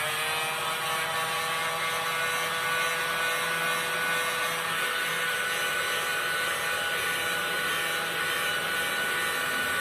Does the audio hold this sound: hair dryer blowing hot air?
yes